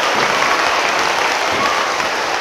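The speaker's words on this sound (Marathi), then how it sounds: "जोरदार टाळ्या वाजवून प्रभू येशूचं स्वागत करा" Loud, steady applause from a church congregation at a Marathi prayer meeting, dense and continuous clapping that fills the whole stretch with no voices rising above it.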